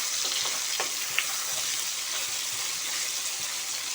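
Brinjal pieces fry in hot oil in a pan for a masala curry, giving a loud, steady, close sizzle with faint stirring clinks. The sizzle stays constant throughout and no one speaks.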